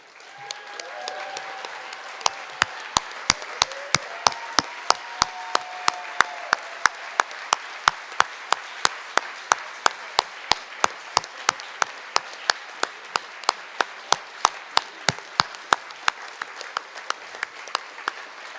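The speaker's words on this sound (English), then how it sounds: "give them a great cheer" A ceremony audience at an applied art and design award presentation applauds at length, dense clapping with a few sharp individual claps standing out and faint cheering early on, filling the room.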